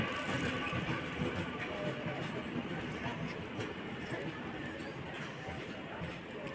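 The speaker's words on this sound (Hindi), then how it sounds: "ये लालगोला कोलकाता मेमू है जो 2 नंबर प्लेटफॉर्म पे आई" A Lalgola–Kolkata MEMU electric train stands at or rolls along platform 2 of Agarpara station, giving a steady broad rumble and hum with faint rail clatter; close and continuous, with no talk.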